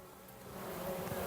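A steady, low buzzing of many honey bees at an open hive in September, swelling slightly and filling the clip, close and continuous with no talking.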